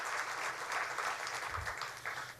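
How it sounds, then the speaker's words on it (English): Audience applause for a company chairman and CEO at a political speech in Indiana, a steady broadband clatter of clapping that holds for the whole stretch and dips slightly toward the end. "How about another round of applause for Greg Hayes, the Chairman and CEO of United Technologies"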